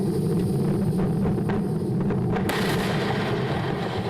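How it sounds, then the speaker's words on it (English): A SpaceX Falcon 9 rocket explosion gives a heavy, continuous low rumble broken by crackling bursts and pops, with a sharper burst partway through. "An explosion of a SpaceX rocket last year showed just how important that rescue capability can be."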